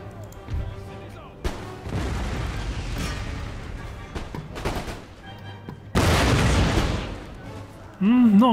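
Cannon artillery volleys in Empire Total War, France campaign, booming in broad bursts across a battlefield, with two heavy loud blasts standing out among rumbling gunfire and a brief tonal sound at the end.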